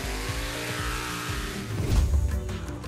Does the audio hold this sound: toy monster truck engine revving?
yes